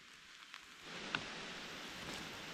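Light rain beginning to fall on a forest floor during mushroom picking, a soft steady hiss of drops with a few faint taps, quiet and without talk.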